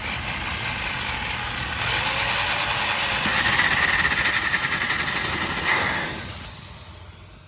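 Air hisses out of the passenger side air spring of a BMW X5 F15 that has been leaking: a steady rushing hiss swells in around two seconds, holds loudly, then fades away near the end.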